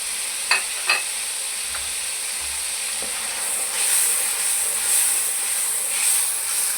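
Green chillies and chopped ginger dropped into sizzling karahi gosht, a couple of sharp clacks early on, then a steady hissing fry that swells louder in waves, close by with no talking.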